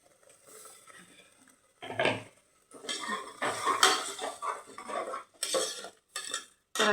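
A spatula stirs and scrapes masala roasting in a pan for homemade egg biryani. Close, irregular bursts of metallic scraping and clattering are separated by short pauses, with no talking.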